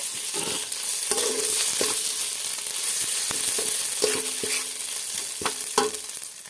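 Spice paste with ground dried chili frying and being stirred in a pan, a steady sizzle broken by repeated scraping stirs, close and fairly loud, with no talking.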